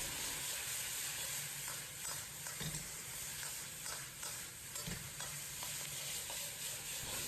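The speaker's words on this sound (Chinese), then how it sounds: "放入花好油的牛肉，烹入少许生抽，开大火快速爆炒。" Beef and scallion pieces stir-fried fast over high heat in a wok with a splash of light soy sauce, giving a steady loud sizzle with scraping stirs and clatter throughout.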